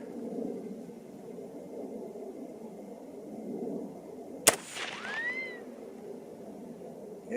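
A single sharp crack from a 6.8 SPC II rifle on a hog-hunting setup, loaded to max, cuts through a quiet outdoor hum, then fades with a short ringing tail.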